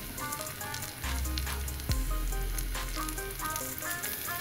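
Bay leaf frying in hot oil, a steady close sizzle and crackle that swells after the first second, with a brief metallic clink partway through and no talk.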